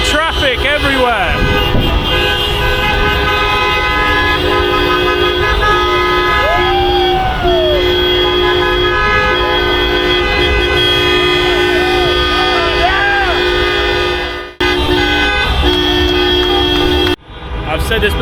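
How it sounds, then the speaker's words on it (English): Dense street traffic in Batumi after Georgia beat Portugal at Euro 2024, with car horns blaring continuously in long overlapping honks and toots over a loud roar, while voices talk and cheer throughout. "It's just an endless wall of noise and traffic everywhere."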